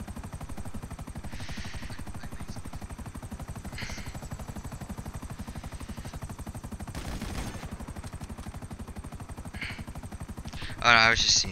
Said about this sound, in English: Ooh, that's a nice looking chopper.